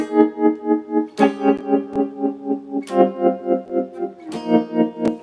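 Electric guitar chords strummed through a modulating effects pedal that cuts the volume, several sustained chords with a pulsing, wobbling volume, clear and close with no voices.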